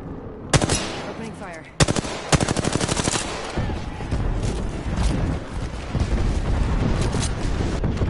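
Rapid machine gun fire from an Apex Legends firefight, with loud sharp bursts around the middle and steady battle noise carrying on after them, plus some in-game voice chatter.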